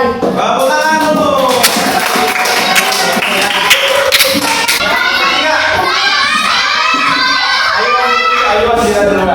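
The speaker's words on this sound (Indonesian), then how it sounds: "Tepuk tangan dulu." Children in a primary classroom clap together in a quick patter of hand claps, mixed with lively kids' voices and chatter that carry on after the clapping ends.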